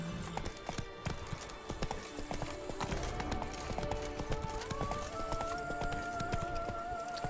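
Roach the horse gallops in The Witcher 3 with a steady run of close clip-clopping hoofbeats, a brief neigh, and ambient game music swelling underneath.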